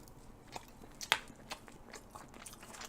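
Someone biting into and chewing a Chipotle chicken and rice bowl, soft close-up mouth sounds with one sharp crunchy bite and a few quieter chews around it, no talking.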